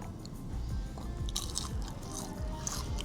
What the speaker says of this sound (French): On prend un onion rings, on va goûter.